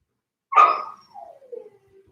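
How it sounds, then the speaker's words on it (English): A single sharp dog bark rings out at moderate distance, trailing off into a couple of softer, falling whimpers. "I've got some dogs barking behind me wanting to come in."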